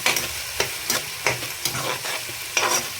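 Onion and masala sizzle in a hot pan while a spoon scrapes and stirs in steady strokes, roughly twice a second, up close.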